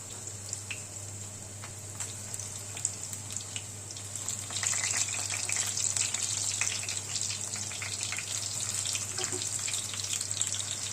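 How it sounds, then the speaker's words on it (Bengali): Crisp shrimp and onion fritters sizzle in hot oil, a steady fine hiss with small crackles that swells louder about halfway through and keeps going, with no one talking. "তেল গরম হয়ে গিয়েছে। এবার আমি পেঁয়াজিগুলো ছেড়ে দিচ্ছি।"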